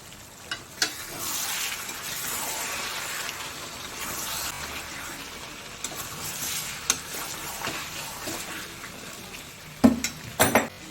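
A Bengali chicken curry with potatoes sizzles in a pan, a continuous frying hiss broken by a few sharp clinks and scrapes of a utensil against the pan, loudest near the end.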